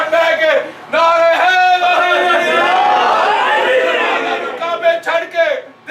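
A crowd at a religious celebration of Jashn-e-Moulood-e-Kaaba shouts slogans together in loud, drawn-out unison calls. Several chanted waves rise and fall, and scattered voices and chatter follow near the end.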